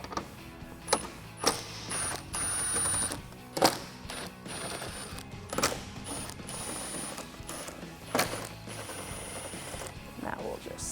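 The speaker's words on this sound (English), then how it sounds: "So we're going to remove 4 bolts, 2 on the lower part of the cowl and then 2 up top. So I'm using a T40 Torx bit to do that." A ratcheting wrench with a T40 Torx bit backs out cowl bolts on a Jeep Wrangler JL, making close bursts of clicking ratchet and metallic clatter with sharp knocks scattered throughout.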